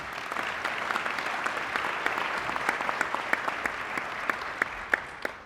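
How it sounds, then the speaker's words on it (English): Audience applauding at the 2019 Thousand Oaks State of the City address, a steady sustained wash of clapping from a large crowd with sharper individual claps popping out, no voices. "You can clap on that one"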